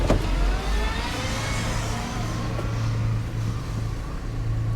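A salvage-auction car idling and creeping forward, a low steady engine rumble with a whining tone and a brief knock at the start, fairly close, no talking.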